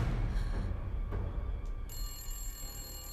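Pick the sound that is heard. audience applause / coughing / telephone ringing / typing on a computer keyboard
telephone ringing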